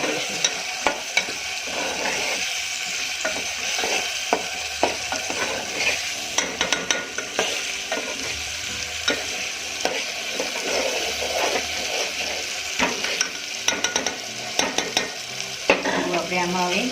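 Spices for a Gujarati ridge gourd sabzi fry and sizzle in a pan as a spoon stirs them, with a constant crackling hiss and scattered sharp scrapes and taps close by, no talking.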